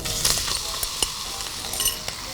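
Pork slices sizzling in a hot wok for a stir-fried noodle dish, a close, crackling sizzle with a few sharp spatters and light clinks.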